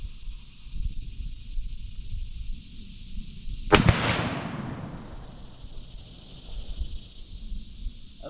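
A single sharp rifle shot at target practice during rifle season prep cracks loudly from close by, and a long decaying echo trails off after it before the outdoor background settles again.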